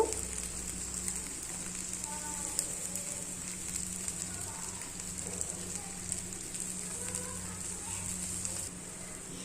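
An atta vegetable roll fries in a pan with a steady, soft sizzle and scattered small crackles throughout, with a faint low hum underneath.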